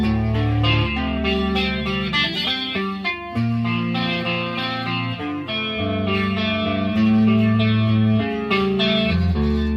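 An electric guitar played through a chorus pedal into a Marshall DSL40 amp plays sustained chords and melodic notes with a shimmering, wavering chorus effect, loud and continuous with no talking.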